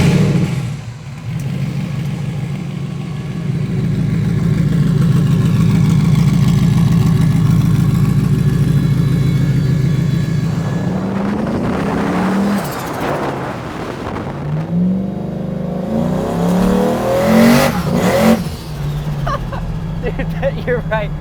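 A turbocharged Coyote-swapped 2002 Mustang engine idles with a loud, steady rumble for several seconds, then revs up in sharp bursts with some tire noise toward the end.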